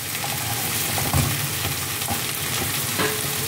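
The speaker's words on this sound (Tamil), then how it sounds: "இங்கே பாகற்காய் எரிச்சி குழம்புக்கு இங்கே வாங்கி வெங்காயம் வதங்கிட்டு இருக்கு." Onions sizzle steadily in a hot pan for a bitter gourd curry, with occasional stirring scrapes over the continuous frying hiss; no voices.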